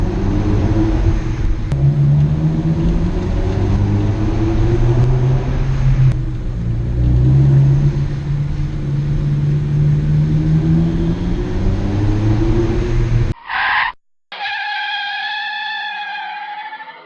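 A Ford Focus ST's loud, rumbling Ford Performance exhaust drones steadily and reverberates in a parking garage, then drops off sharply and returns with a higher, whining tone near the end.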